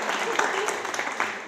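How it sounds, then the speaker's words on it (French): A brief patch of audience applause at the Gleeden Awards 2025 ceremony, with a voice speaking over the clapping. "Par applaudissement, qui trouve qu'elle est magnifique?"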